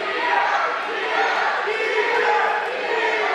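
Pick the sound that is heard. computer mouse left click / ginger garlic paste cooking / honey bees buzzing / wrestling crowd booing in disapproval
wrestling crowd booing in disapproval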